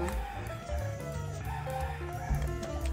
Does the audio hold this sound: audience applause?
no